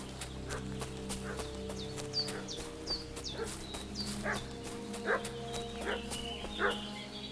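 A dog barks repeatedly in Kingdom Come: Deliverance 2, a series of sharp, regular yips and barks at moderate distance over a faint steady background hum, with horse hooves clopping alongside.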